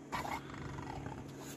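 A male breeding dog growls low and rough in a short, continuous rumble, fairly close and quiet.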